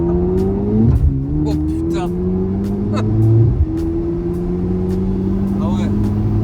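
A Porsche engine revs hard during a launch start, with a steady loud drone and rising pitch as it pulls away from full brake and full throttle, close and continuous, and a person's brief exclamation heard over it.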